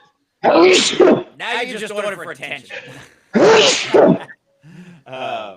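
Two loud, abrupt sneezes a few seconds apart, with a person talking between and after them.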